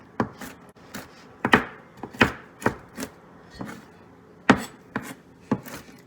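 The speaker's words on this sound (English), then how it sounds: "1/2 cup of walnuts, so now I'm going to just chop them" Knife chopping walnuts on a cutting board, a series of sharp, close taps in an irregular rhythm with short pauses, no voices.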